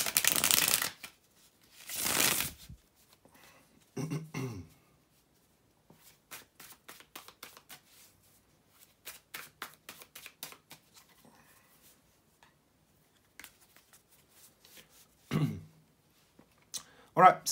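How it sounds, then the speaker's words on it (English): Tarot cards are shuffled by hand in a run of soft riffling and flicking bursts, some louder slaps and quick flutters spread over several seconds, close and clear with short pauses between. "bear with me just a second, guys, to shuffle the tarot cards"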